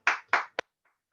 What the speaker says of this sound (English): Everybody else is applauding you